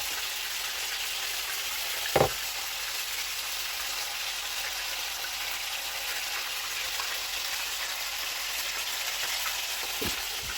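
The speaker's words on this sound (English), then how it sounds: "The burgers are halfway there. Onions are starting to brown and caramelize." Beef burgers and onions fry in a pan, a steady dense sizzle and crackle like rain on a surface that holds even and close throughout, with a couple of brief knocks and no talking.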